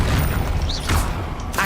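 A Confringo fire spell explodes in the Hogwarts Legacy video game, a short booming blast with a bright crackling burst, set amid continuous low rumbling game noise and a second sharp hit near the end.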